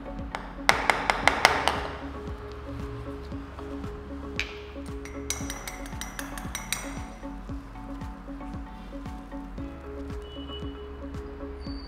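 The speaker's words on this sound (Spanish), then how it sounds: "Voy a batir un poquito nada más para generar un poquito de espuma y servir." Cold cream shaken in a cocktail shaker to whip up foam for a Caribbean Coffee cocktail: a quick burst of rapid rattling strokes, then scattered light clinks and taps over a steady low hum, with no talking.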